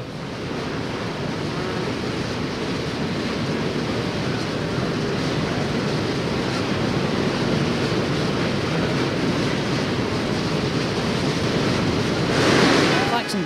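Surf and wind roar steadily on a beach before a motorcycle beach race start, a dense, constant wash of breaking waves and gusty microphone wind with no clear pauses.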